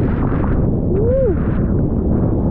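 Gale-force wind on a beach batters the microphone in a loud, constant low roar, with a brief faint whistling tone rising through the middle.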